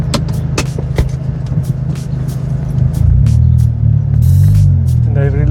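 Engine of a Bertone Turbo car running and building boost, with a steady low drone that swells louder midway, sharp turbo flutter and whoosh bursts over it, and a voice talking faintly underneath.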